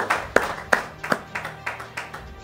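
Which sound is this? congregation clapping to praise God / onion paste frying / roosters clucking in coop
congregation clapping to praise God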